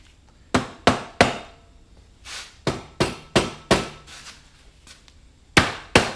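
A rubber mallet strikes the cylinder head of a 1986 Honda Fourtrax 200SX about nine times, sharp close knocks in small uneven bursts with short pauses between, no talking.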